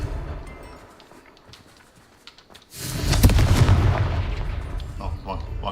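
A Confringo fire spell explodes in the Hogwarts Legacy video game, a sudden loud blast that swells into a sustained rumbling, crackling roar after a quieter stretch of ambient game sound.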